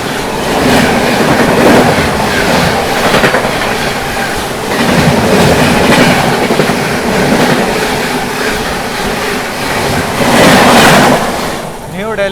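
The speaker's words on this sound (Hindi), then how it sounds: "सामने से आ रही है आप लोगों की न्यू दिल्ली से चलकर डिब्रूगढ़ की ओर जाने वाली राजधानी एक्सप्रेस" A New Delhi–Dibrugarh Rajdhani Express train passes close by with a steady, loud rumble and rhythmic clickety-clack of wheels over rail joints, surging in waves as coaches roll past, with faint wheel squeal near the end.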